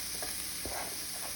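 Chopped onions sauté in a pan with a soft, steady sizzle and a few scraping stirs, faint and close, with no voices.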